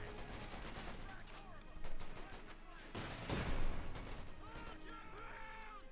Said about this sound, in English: suppressed here by the 50 caliber machine gun